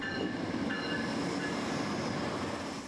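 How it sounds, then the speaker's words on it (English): A train rolls past in the small railroad town of Essex, Montana, giving a steady rumble of wheels on track with faint metallic squeal, close and continuous without voices. "The trains that pass through the small railroad town of Essex, Montana"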